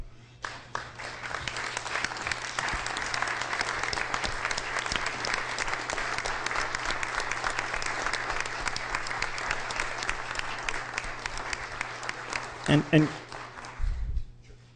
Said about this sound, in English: If you are in favor, please stand and applaud.